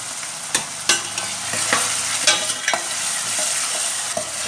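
Ginger frying in a pan for a Mangalorean fish dish, a steady close sizzle broken by sharp, irregular scrapes and clinks of a spoon stirring against the metal.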